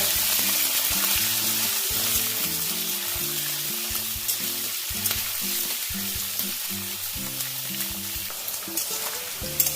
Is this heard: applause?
no